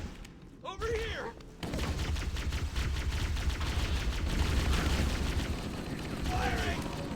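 Sustained automatic gunfire rattles on board the Pillar of Autumn in Halo: Combat Evolved, a dense, close barrage starting abruptly after a brief quieter lead-in with alien chirps, continuing steadily to the end.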